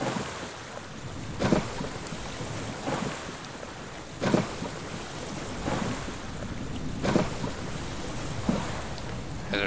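A storm in the survival video game Stranded Deep, with steady rain and rushing ocean wind under a series of rumbling thunder cracks arriving at intervals, moderately loud and unaccompanied by speech.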